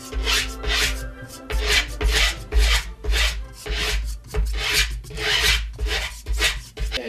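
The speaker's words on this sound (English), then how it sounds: "You're going to want to file evenly around the deck." A file scraped along the edge of a skateboard deck to score the grip tape: around a dozen loud, rhythmic rasping strokes close by, each about half a second apart, with no talking.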